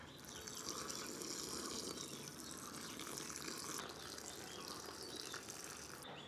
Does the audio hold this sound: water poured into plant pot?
yes